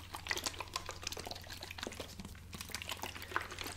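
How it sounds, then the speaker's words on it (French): Water is poured and dribbled for ASMR, with soft close-up trickles, drips and light splashes over a quiet background. "je vais faire des bruits d'eau pour ce deuxième test"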